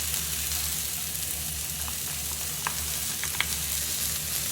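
Dry bulgur tipped into a pan with a little oil gives a low, steady sizzle of frying with a few faint crackles and ticks on top, heard alone at moderate loudness.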